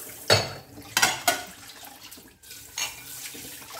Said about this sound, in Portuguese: essa torneira tá ligada aqui, mas a água é bem fraquinha, tá?